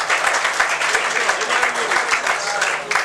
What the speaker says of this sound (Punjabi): ਤਰਾਣੇ ਦੇ ਨਾਂ ਦੀ ਇੱਕ ਤਾੜੀ ਹੋਰ ਹੋਣੀ ਚਾਹੀਦੀ ਹੈ